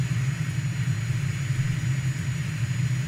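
Morane Saulnier MS760 Paris Marboré II jet with one engine running in a flight simulator, a steady low droning rumble held at constant level throughout, no talk over it.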